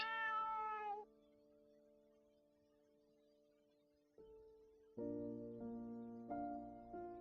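A cat meows in the video game The Deed Dynasty, one drawn-out, fairly faint cry followed by sustained tonal game music.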